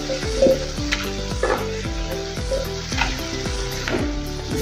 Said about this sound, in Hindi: अभी हम अपनी भिंडी इसमें डाल देंगे।